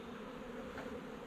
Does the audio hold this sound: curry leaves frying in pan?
no